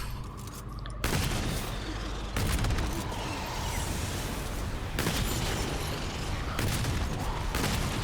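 Continuous gunfire and explosions in the Remnant II video game, a dense, steady barrage of shots and booms with sharp bursts punctuating the din throughout.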